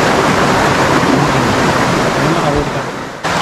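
Kipot Falls in Cavinti, Laguna, a waterfall on an undisturbed river, pours as a steady, loud, broadband roar of rushing water that holds constant throughout, then dips briefly near the end.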